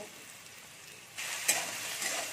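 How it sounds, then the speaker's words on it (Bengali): Potatoes seasoned with salt and turmeric fry in oil with a soft, close sizzle that swells partway through, with a brief stir or scrape on top. "এরকম হলদি দিয়ে দিচ্ছি আর একটু নুন দিয়ে দিচ্ছি, দিয়ে এটাকে আমি একটু ভেজে নেব।"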